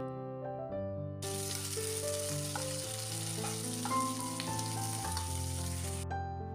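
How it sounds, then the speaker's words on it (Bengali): Moong dal frying in a pan gives a bright, steady sizzle that starts suddenly and stops after several seconds, under continuous background music. "এখন আমি মুগ ডালটাও ভালো করে ভেজে নিচ্ছি"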